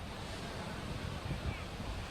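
Ocean surf rolls in at Ngandong Beach in Gunung Kidul, Yogyakarta, a continuous wash of waves mixed with wind buffeting the microphone, heard at a distance and fairly faint.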